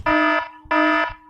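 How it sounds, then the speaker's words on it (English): An iPhone alarm ringtone sounds twice, each a loud, steady, harmonically rich electronic tone about a third of a second long, with a short gap between and a third burst starting at the end. "Next ringtone is alarm."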